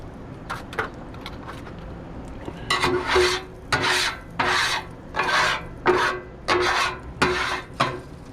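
Metal scraper rasping across a Blackstone griddle to clear off bacon grease, in a run of repeated close strokes: a few faint scrapes first, then about eight loud, rhythmic passes without talking.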